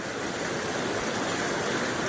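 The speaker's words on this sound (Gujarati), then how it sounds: "ધોધમાર પાણીનો પ્રવાહ આવી રહ્યો છે ઓજત નદીમાંથી" Torrential floodwater from the Ojat river rushing during Gujarat monsoon flooding, a loud, dense, unbroken roar of churning water, steady and close throughout with no voices.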